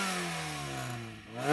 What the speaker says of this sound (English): Now you can hear that supercharger whining away.